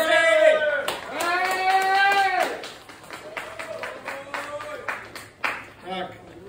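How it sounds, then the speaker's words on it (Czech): A crowd at the Moravian Homebrewers Meeting 2023 awards ceremony claps in a lively, close burst of applause after someone speaks, with voices and cheers mixed in. "zatleskejme si!"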